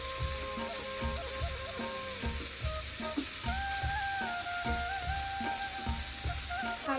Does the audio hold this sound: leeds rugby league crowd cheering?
no